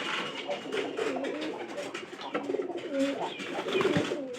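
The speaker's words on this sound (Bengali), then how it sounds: "পাঁচ জোড়া কবুতর" Pigeons kept in a loft of about five pairs coo steadily and repeatedly, with overlapping throaty calls close by throughout.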